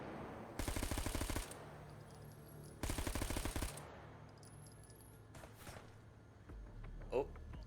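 Enemy gunfire in a video game comes in two rapid machine-gun bursts, each about a second long, loud and close, separated by a quieter stretch with faint background clatter.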